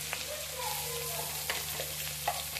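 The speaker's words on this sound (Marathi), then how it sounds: "वाटण चांगलं फ्राय करून घ्यायचंय।" Green chili paste frying with cumin in hot oil for vada pav, giving a steady, close sizzle with occasional soft stirring scrapes and no voices.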